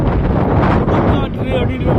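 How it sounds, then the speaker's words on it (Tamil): Strong wind buffets the microphone outdoors in loud, continuous low rumbling gusts that roar without pause, while someone speaks partly masked beneath it. "பாருங்க, இந்த காற்று கொஞ்சம் அதிகமாகவே இருக்குது."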